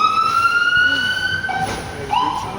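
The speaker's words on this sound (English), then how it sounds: "another ambulance." An ambulance siren wails past outdoors at a street event, its rising and falling tones sweeping over crowd noise and shifting pitch as it moves by.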